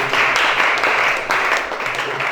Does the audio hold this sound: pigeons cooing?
no